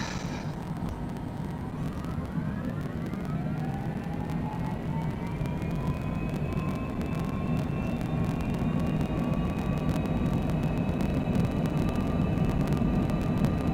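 Airliner engines spooling up to takeoff power in Flight Simulator 2020, a steady loud roar with rising whining tones that climb and settle into a sustained high hum, no talk.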